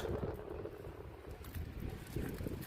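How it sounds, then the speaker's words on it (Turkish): Gusty wind on a rooftop buffeting the microphone, a low, rough rushing roar that rises and falls in strong cold gusts, with no talking. "Sert soğuk bir rüzgar var."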